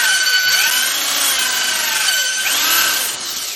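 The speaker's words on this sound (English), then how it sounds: "sanding it and you're getting rid of the edges at the same time." A power sander running steadily with an 80 grit disc, taking the edges off a part as it is smoothed; a loud, continuous rasping whine with slight pitch sweeps as pressure shifts, easing off near the end.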